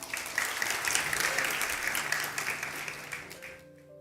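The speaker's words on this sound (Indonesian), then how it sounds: "Kita beri tepuk tangan." A congregation applauds during a church sermon, steady dense clapping filling the room for about three and a half seconds before it quickly dies away.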